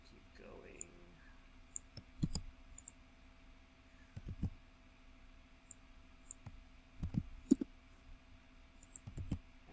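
Computer mouse clicks, sharp and close, come singly and in small clusters every couple of seconds, heard beneath a person talking.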